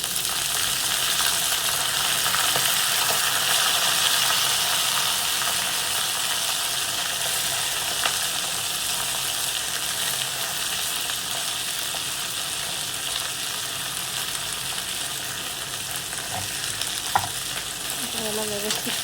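Fenugreek leaves are stirred and fried in a pan over low gas flame, giving a steady loud sizzle with scraping stirs and an occasional clink of the spatula.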